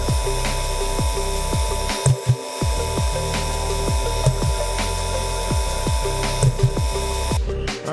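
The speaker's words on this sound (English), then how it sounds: "now we're just doing some spot drills for the holes" A Haas CNC machine spindle whirs with a repeated pattern of short spot-drilling bursts into stainless steel, each ending in a quick downward sweep, about once per half second.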